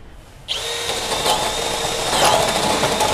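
Bosch GSB 185 18V cordless drill boring a 32 mm hole, starting abruptly and running at a loud, steady whine with a grinding texture and slight pitch dips as the large bit bites.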